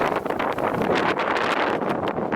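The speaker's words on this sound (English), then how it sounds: "it's windy" Strong wind roars and buffets the microphone on a hilltop on the Isle of Man coastal path, a steady, loud rush with brief gusts and no voices.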